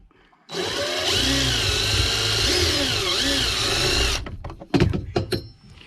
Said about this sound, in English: so now let me drill the other one